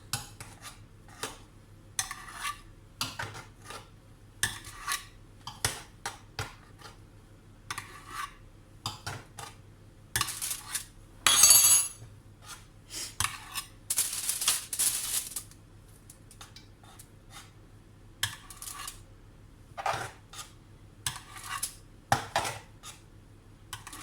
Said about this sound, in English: So I get a spoon of the mash and I just scrape it over the side.